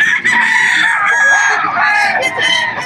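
A Sweater round head stag gamefowl crows loudly and close at a pet market in Bocaue, one long drawn-out cock-a-doodle-doo with market noise around it.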